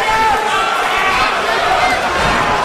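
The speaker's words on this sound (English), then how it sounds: "And the crowd responds even louder for the show of respect." A wrestling crowd roars loudly and continuously in applause, a dense steady wall of cheering with a commentator's voice running over it.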